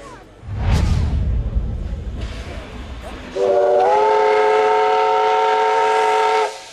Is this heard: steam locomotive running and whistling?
yes